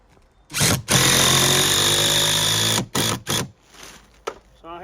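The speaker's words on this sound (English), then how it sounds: "Sounds like the girls just got the leaf blower in the front yard." A leaf blower runs in a front yard, its loud, steady motor whine holding for about two seconds before breaking into a few shorter bursts and fading out.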